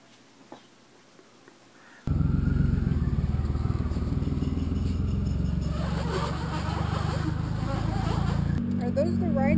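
Triumph 955i motorcycle engine starting up after a quiet moment with faint talk, then a loud, close, steady idle rumble with a slight rise in revs, people speaking over it.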